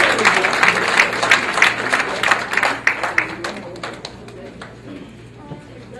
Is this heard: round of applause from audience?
yes